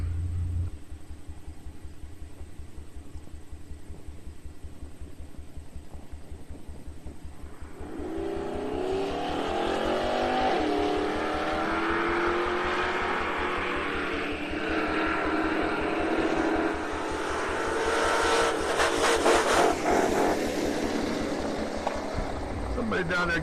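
Drag racing cars at TriState Raceway, a quiet lull giving way to a loud rising roar of engines launching and accelerating down the strip, heard from a distance with an announcer talking over the noise.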